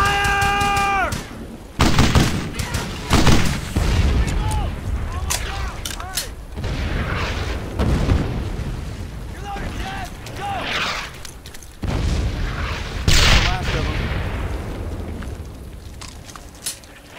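Gunfire and heavy blasts in the World War II shooter Brothers in Arms: Hell's Highway, loud repeated bursts and deep booming impacts coming in clusters with brief lulls, close and dominant, with shouting voices in between.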